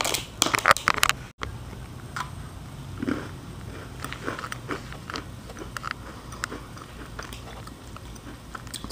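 A crunchy chocolate cookie is bitten with a few sharp crackling crunches, then chewed softly and close for several seconds, with no talk.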